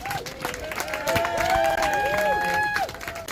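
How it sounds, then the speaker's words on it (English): Clapping and cheering break out from an audience at a community event in Birmingham, mixed with crowd chatter and whooping voices, fairly loud and busy. "please give her a round of applause"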